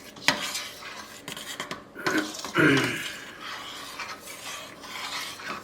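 Strawberry rhubarb jam being stirred in a stainless steel pot, with close scraping and rasping of a utensil against the metal, uneven strokes and a few sharper clinks, heard alone without talk.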